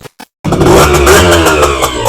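A used, well-kept motorcycle starts after a couple of quick clicks and runs with a loud, steady, close-up drone and a slight uneven throb.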